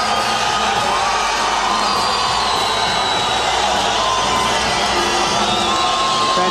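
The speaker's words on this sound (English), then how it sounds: "A wonderful reception from this huge crowd at the Sydney Entertainment Centre welcoming Nader Hamdan." Huge arena crowd at the Sydney Entertainment Centre cheering and whooping to welcome a boxer before a fight, a dense, continuous roar with shouts rising out of it throughout.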